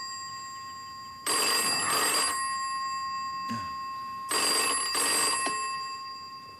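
Telephone bell ringing indoors in a drama, two distinct double-burst rings separated by a pause, loud and close with a faint hum underneath.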